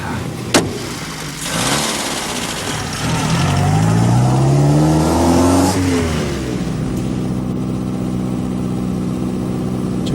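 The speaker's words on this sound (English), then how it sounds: "Nice cars, these vehicles." A vintage car engine from a 1978 BBC period drama, revving with a sharp rising pitch as it accelerates, then settling to a steady drone, with a voice briefly heard.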